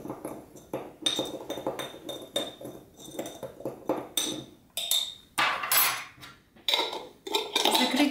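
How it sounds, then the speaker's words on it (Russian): A spoon stirs a homemade baking powder mix in a glass jar, giving a quick run of metallic clinks and taps against the glass, some sharper than others, close and uneven, with no speech. "Когда все добавили, перемешать ложкой."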